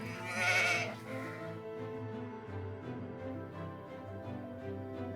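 A sheep in Greenland gives a single bleat near the start, above a steady droning tonal background that continues to the end.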